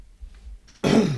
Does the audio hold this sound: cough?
yes